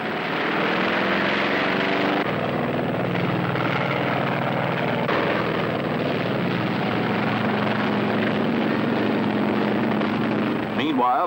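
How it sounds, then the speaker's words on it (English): Sea Fury and Firefly propeller aircraft fly ahead of a carrier in a mock attack on a fleet, a continuous droning engine roar heard loud and steady throughout, with a narrator speaking over it. "Aircraft lead the carrier for a mock attack on the combined New Zealand and Australian fleets"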